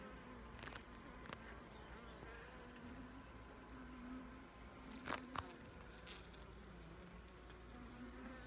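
Honeybees at an open hive, a steady close buzzing drone with occasional louder passes of individual bees near the microphone.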